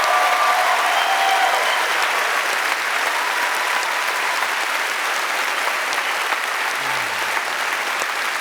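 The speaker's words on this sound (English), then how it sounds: "round of applause for our panelists here" A convention panel audience at PAX West 2017 applauds its panelists with steady, dense clapping that holds at an even level throughout and fades only slightly toward the end, with no talk over it.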